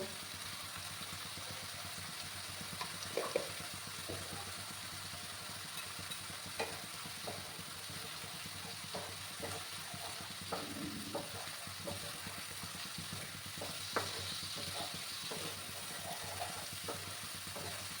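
Spices with turmeric sauté in oil in a pan for a spicy wallago fish curry, a steady faint sizzle with scattered soft stirring taps and scrapes throughout.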